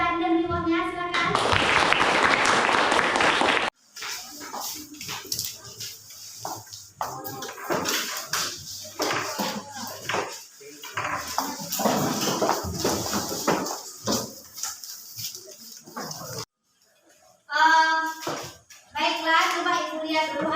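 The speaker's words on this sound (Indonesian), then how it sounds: "Kita berikan tepuk tangan untuk teman yang dikasih hadiah tadi" A class of children applauds together, bursts of hand clapping alternating with an adult teacher's speech and children's voices in a classroom.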